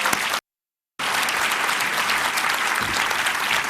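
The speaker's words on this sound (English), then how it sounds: "let's all give a warm round of applause to Skúli Mogensen" A conference audience at Startup Iceland 2019 claps for Skúli Mogensen: dense, steady applause from a full room, with a brief cut to silence near the start before the clapping resumes and carries on evenly.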